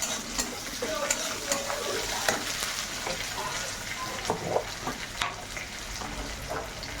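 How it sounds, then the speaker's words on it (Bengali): Tomatoes sizzle and crackle in a hot pan while a utensil stirs and scrapes repeatedly, making steady clicking taps over the frying hiss. "টমেটোকে একটু ভাজা ভাজা করে নেবে"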